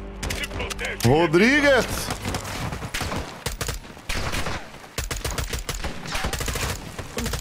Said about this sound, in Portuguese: Ele está atirando.